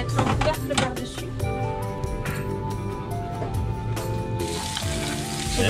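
Cordons bleus fry in slightly salted butter in a pan under a lid, a steady sizzle and crackle with scattered pops and clinks, close and moderately loud.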